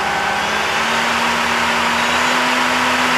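The spindle of a Mazak Integrex 200Y CNC machine runs at 5,000 RPM, a loud steady whine with a constant hum and broadband rush, no voices.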